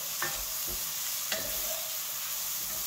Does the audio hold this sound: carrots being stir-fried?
yes